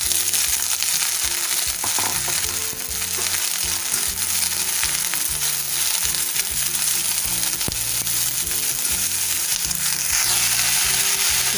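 Mixed vegetables sizzle and crackle steadily in a hot kadhai, loud and close, with occasional stirring scrapes and no voices.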